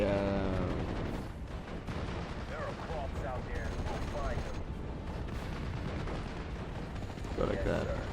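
Gunfire from units in the World War II strategy game Steel Division Normandy 44 rattles on as dense, continuous battle noise with bursts and booms, while someone talks over it.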